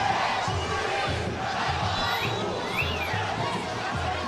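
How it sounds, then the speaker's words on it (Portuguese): Guarani football fans in a packed stadium jeer the referee during a Brazilian Série C match against Amazonas, a constant loud roar of crowd voices with rhythmic chanting surges underneath. "Torcida do Guarani, portanto, apulpando o árbitro aqui no Brinco."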